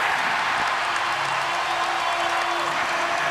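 Basketball arena crowd in Memphis during a playoff game, a dense, continuous roar of noise and cheering that fills the space, steady and loud throughout.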